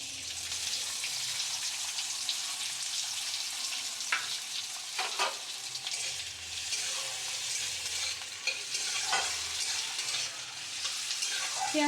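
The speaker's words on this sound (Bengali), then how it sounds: "এই সাদা তেলের মধ্যে দিয়ে দেবো পেঁয়াজ কুচি" Chopped onion fries in hot white oil in a heated pan, a steady, dense sizzle with light crackles that runs throughout at moderate level, with no voices.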